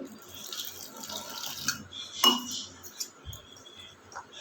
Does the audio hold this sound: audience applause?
no